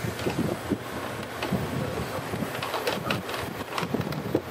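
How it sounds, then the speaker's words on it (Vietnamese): Strong morning wind on Hòn Sơn island roars in a steady, gusty rush across the microphone, with low buffeting and no speech. "Sáng thì gió khá lớn."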